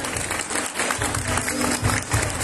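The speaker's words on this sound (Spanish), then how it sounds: "Que se escuche el aplauso para nuestro alcalde" Audience applauding the mayor at a town fair during a flower-queen election and coronation, a dense, steady wash of clapping that holds at even loudness for the whole stretch.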